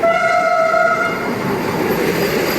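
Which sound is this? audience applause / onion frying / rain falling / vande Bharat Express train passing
vande Bharat Express train passing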